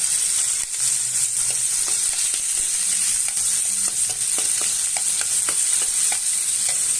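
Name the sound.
garlic paste frying with tomato and onion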